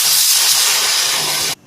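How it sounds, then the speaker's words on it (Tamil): Steam whistle from a pressure cooker venting while cooking black urad dal rice, a loud, steady hiss that runs about a second and a half and then cuts off abruptly, heard alone. "இதே மாதிரி 4 விசில் வரும்."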